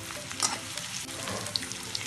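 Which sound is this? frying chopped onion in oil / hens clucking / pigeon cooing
frying chopped onion in oil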